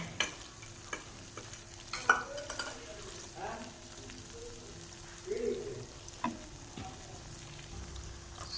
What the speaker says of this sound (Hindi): सॉस डालने के बाद इसे हम करते हैं अच्छे से मिक्स